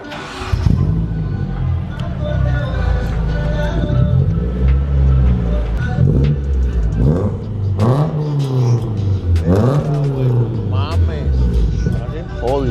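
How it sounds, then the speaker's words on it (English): Infiniti G35 Coupe with a Greddy exhaust starts up and revs repeatedly, engine pitch rising and falling in loud sweeps close by, with excited talk over it. "Alright, so first time starting up the car."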